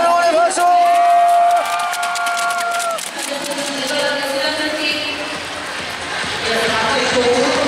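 Crowd at a short track speed skating World Cup women's 1000 m semifinal in Seoul cheers and claps for skater Choi Min-jeong, a loud, continuous mass of applause and shouting with high tonal calls or horns rising over it.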